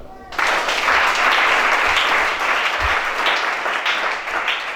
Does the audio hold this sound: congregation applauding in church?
yes